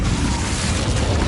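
Confringo explosion spell from the video game Hogwarts Legacy, a dense loud continuous roaring blast filling the whole short moment with no pauses.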